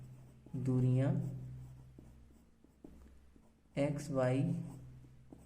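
A pen scratches faintly on paper during a polytechnic engineering drawing lesson, quiet strokes heard mostly in a pause between two stretches of a man teaching.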